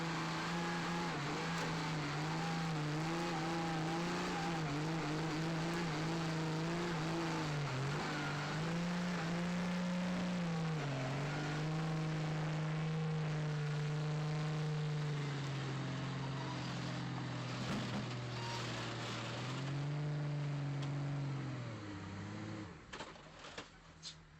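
An off-road truck engine drones steadily and loudly, its pitch dipping and rising as it labors over rough terrain, with no voices.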